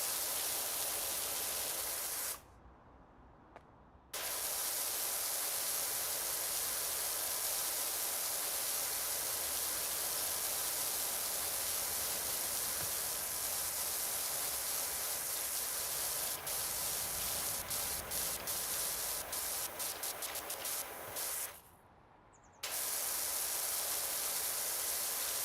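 Pressure washer spraying in PowerWash Simulator 2, a steady loud hissing jet that runs almost continuously, cutting out briefly twice.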